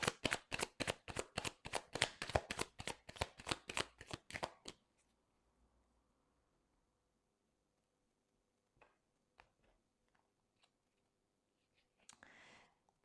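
Tarot cards are shuffled in quick riffling bursts, about a dozen sharp rhythmic flutters close to the mic for several seconds, then near silence broken by a few soft taps and a short rustle.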